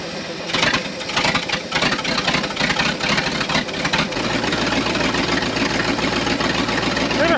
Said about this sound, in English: So we should be having a high idle now.